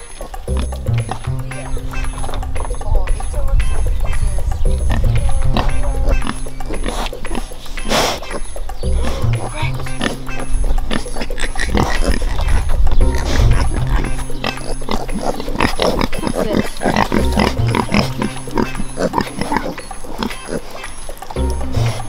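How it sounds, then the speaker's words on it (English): Baby pigs grunt and oink in a farm pen, a busy, continuous mix of snuffling and shuffling close by, with people talking over it. "you want to have a look at the baby pigs?"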